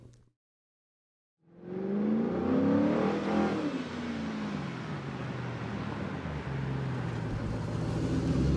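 Near silence gives way to a car engine revving up loudly, climbing in pitch and then settling into a sustained roaring rumble close by, with no voices.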